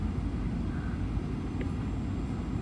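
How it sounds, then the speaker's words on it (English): A Virgin Australia Boeing 737 landing on a Gold Coast to Adelaide flight, heard from inside the cabin as a steady, low engine and airflow rumble that holds evenly throughout with no voices. "I'll shut up and let you enjoy the landing."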